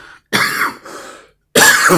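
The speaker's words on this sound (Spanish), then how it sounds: "Perdonen la tos" Two sharp, harsh coughs close to the microphone, separated by a brief pause, with a rough throaty rasp.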